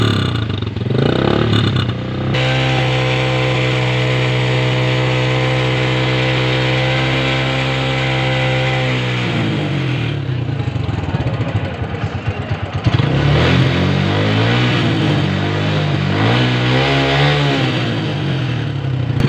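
A motorcycle engine on a road test runs at a steady high idle, then is revved and blipped with clattering, uneven bursts, close and loud, while people talk faintly in the background.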